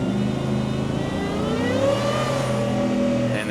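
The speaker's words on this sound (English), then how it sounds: "And the sound that the exhaust makes is fantastic." A 2023 Ford F-150 Shelby pickup accelerates hard, its exhaust note climbing steadily in pitch with a loud, continuous engine roar close by and no voices.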